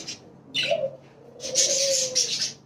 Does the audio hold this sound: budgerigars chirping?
yes